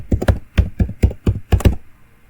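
Keys clack on a computer keyboard while text is typed into the Nano editor on Linux: several short bursts of close, crisp taps in an uneven rhythm, with no one talking.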